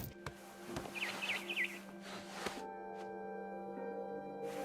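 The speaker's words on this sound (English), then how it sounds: "Then I heard chirping outside my window. It was a barn swallow going back to her nest." Barn swallow chirping in the game What Remains of Edith Finch, a short burst of three quick high chirps over a steady ambient hum with soft thuds, no voices.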